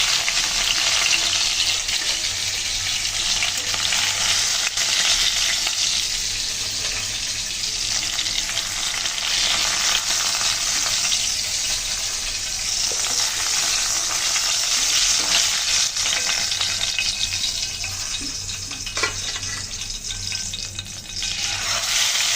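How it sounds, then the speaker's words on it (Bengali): Tilapia frying in hot oil, a loud continuous crackling sizzle that holds steady for a long stretch, with occasional faint clinks. "বাকি মাছগুলো আমি ভেজে নেব।"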